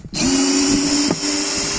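A cordless drill driver whines steadily at close range while backing a coarse-threaded screw out of wood, with one brief jolt partway through as the motor strains against the stuck screw.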